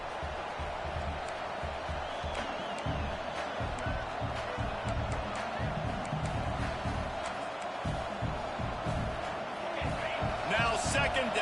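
Stadium crowd in an NCAA college football video game, a steady roar of fans that rises and swells across the stretch, with a commentator talking over it throughout.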